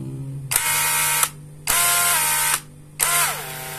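An impact wrench fitted with a Modern M65 module runs at low RPM in three sustained bursts, each roughly a second long with a ratcheting, whirring tone, separated by short pauses; loud and close, with no talk.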